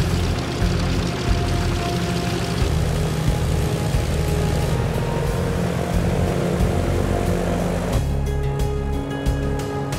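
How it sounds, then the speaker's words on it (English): A Buffalo Airways propeller airliner roars steadily at full power on its takeoff for a test flight, a loud, continuous droning rumble heard close by with no pauses. "With a top up of oil, she's finally ready for a test flight."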